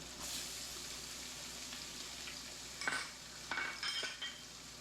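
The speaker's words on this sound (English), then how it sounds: "Now we're going to add a little oil. And we're going to add our potatoes." Potatoes frying in a little oil in a pan give a steady close sizzle, with a few scraping, clattering stirs near the end.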